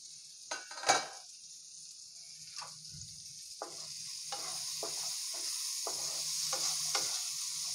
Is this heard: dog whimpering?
no